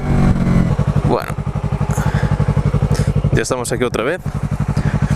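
A Yamaha R3 motorcycle runs with its exhaust removed, idling in a loud, even, rapid pulsing beat with brief throttle blips, while someone talks over it.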